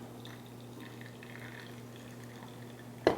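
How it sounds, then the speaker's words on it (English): Water trickles through a paper coffee filter held in a kitchen funnel, a faint, soft dripping over a low background hum, ending in one sharp louder knock. "Well, water is coming through it"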